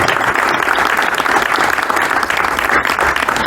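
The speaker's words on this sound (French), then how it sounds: "Vous pouvez applaudir." Audience applause at the inauguration of the TEP Boris Vian sports ground, a steady, dense clapping from a large crowd filling the whole moment without pause.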